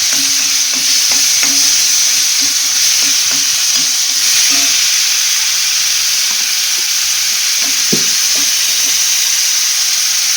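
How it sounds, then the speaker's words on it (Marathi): Masala paste of onion, garlic, ginger, coriander and coconut sautés in a pan with a loud, constant sizzle, punctuated by repeated scraping and stirring knocks throughout. "आता थोडासा परतवून, थोडासा लालसर असा ब्राऊन कलरचा झाला पाहिजे."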